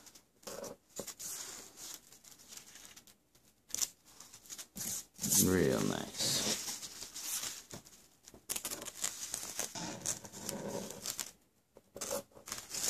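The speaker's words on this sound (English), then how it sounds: "I'm just going to finish it off with the scissors here" Scissors snip and rustle against crinkly plastic in short bursts, close up, with someone speaking briefly over the handling noise.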